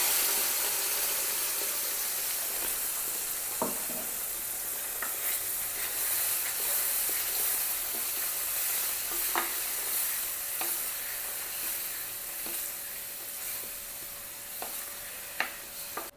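Ground green masala paste sizzles steadily in hot oil for a green egg masala, with occasional scraping and stirring clicks over a constant close frying hiss and no talking.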